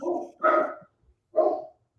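A dog gives three loud barks close by, the first two back to back and the third after a short pause, with no one talking.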